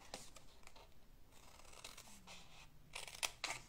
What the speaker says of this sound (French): on coupe déjà tous ces plis comme ça